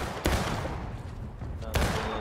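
Musket volley fire in the Civil War game War of Rights, two sharp, loud gun reports about a second and a half apart over dense, continuous battle noise.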